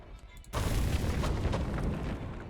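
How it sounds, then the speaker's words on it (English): Ground bursting open in the vampire visual novel In Blood: a sudden loud boom that sets off a dense, sustained roaring rumble lasting a couple of seconds, heard on its own. "Suddenly the ground exploded and the earth was ripped open"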